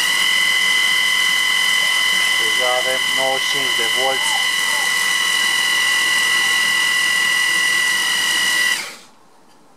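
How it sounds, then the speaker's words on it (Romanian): Homemade 220 V, 50 Hz generator built from a 1 kW water pump motor drives an electric drill that turns slowly, giving a steady, close whine under a voice before it cuts out near the end. "bormașina nu mai are aceeași turație"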